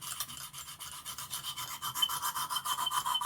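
Steady rhythmic rasping strokes of a Boker clip point knife blade drawn across a Lansky diamond sharpener, close and fairly loud, repeating evenly with no talking.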